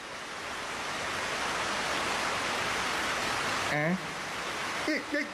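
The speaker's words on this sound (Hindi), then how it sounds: "अरे पानी।" Cartoon water gushes in a loud, steady broadband rush that runs almost the full length, with a brief voice heard near the end.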